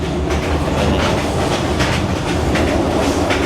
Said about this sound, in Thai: อันนี้ก็เป็นรีวิว รถไฟเวียดนาม